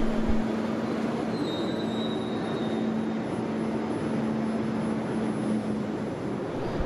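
A Budapest metro line 4 train at the northern terminus station runs with a steady rumble and a sustained electric motor whine. A faint high squeal appears briefly, and the sound holds at an even, moderate level throughout.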